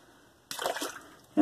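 Water splashes briefly while something is rinsed, a short close burst of splattering followed by a quick second splash.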